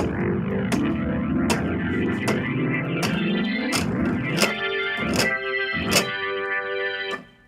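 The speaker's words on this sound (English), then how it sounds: "building some feedback noise before the guitar kicks in" Droning, distorted feedback tones swell and shift pitch, punctuated by regular sharp percussive hits, loud and dense before cutting off abruptly.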